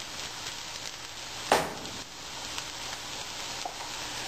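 Potatoes browning in a frying pan give a steady, close sizzle throughout, with one brief louder crackle or scrape partway through.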